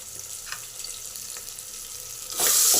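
Onions and spices frying for a mutton curry make a soft continuous sizzle with faint stirring scrapes, swelling into a louder hiss near the end.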